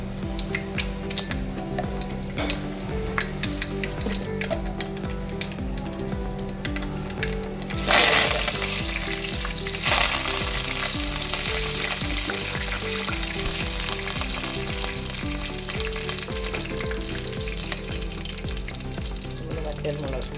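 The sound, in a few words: mustard seeds and fenugreek frying in hot oil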